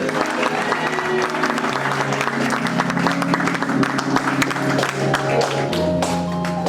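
A church congregation applauds and acclaims God in a dense, continuous wash of clapping and crowd noise, with music playing steadily underneath and voices mixed into the cheering.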